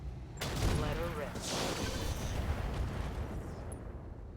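Heavy mech weapons fire in the RogueTech game, a sustained barrage of booming blasts and crackling impacts aimed at a light Stinger mech, loud and continuous throughout.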